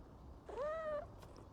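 In the PowerWash Simulator 2 video game, a cat gives a single short, quiet meow with a gentle rising and falling pitch over faint background ambience.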